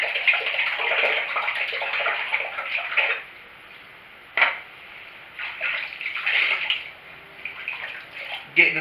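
Water splashes in repeated bursts as hands wet the face between passes of a wet shave with a Van der Hagen double-edge safety razor, loud and close, with a pause in the middle.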